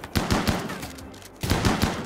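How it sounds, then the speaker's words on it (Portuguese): Bursts of automatic gunfire from a Rimworld colony fight, two rapid rattling volleys separated by a brief pause, loud and close with no speech. "esses caras são muito ruins de tiro"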